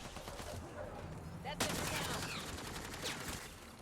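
Gunfire in a video game erupts as a sudden loud burst partway through, then gives way to a sustained noisy wash of shots and rumble over a low background hum.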